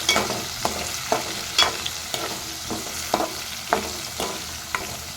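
Drumstick pieces fry with turmeric in a pan, a steady close sizzle broken by repeated scraping stirs about every half second, with no voices.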